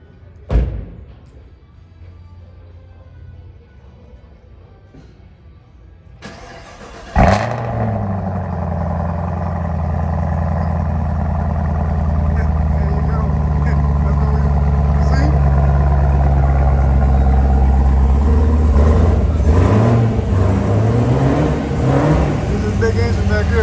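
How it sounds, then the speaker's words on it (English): A supercharged 2023 Chevrolet Camaro ZL1 big engine cold-starts with a sudden loud burst after a quiet stretch, then settles into a heavy, steady, close rumble with light revving while people talk nearby. "He's finna start it up for us right now."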